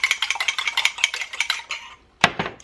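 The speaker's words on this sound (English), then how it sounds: "Let me beat those really well." Eggs beaten briskly in a pot, a fast rhythmic run of bright clicking whisk strokes against metal, then a short pause and one sharp clank, close and loud with no talking.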